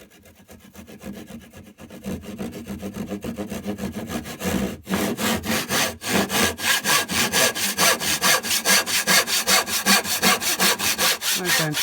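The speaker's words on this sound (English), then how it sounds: "Now I'm going to cut this out, Tenon saw again." A tenon saw cuts through wood for a frame joint, a steady run of rhythmic back-and-forth strokes that grows louder and quicker as the cut goes down to the line. Close and clear, with no talking.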